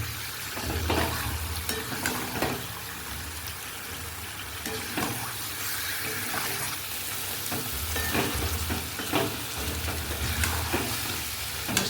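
Chicken chap pieces and masala are stir-fried in oil, a dense, loud sizzle with repeated scraping strokes of a spatula against the pan and a low background rumble.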